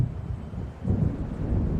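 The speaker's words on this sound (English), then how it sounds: "It seems there's a storm coming" Deep rolling thunder from an approaching storm over open sea in a winter horror game, a low rumble that dips briefly and then swells again, heard on its own.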